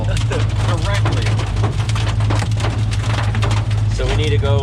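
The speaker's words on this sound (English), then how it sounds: "We're in the hail directly." Hail pelting a storm-chasing vehicle during an Oklahoma and Texas storm chase, a loud, dense, continuous rattle of impacts over a steady low engine rumble, with people talking throughout.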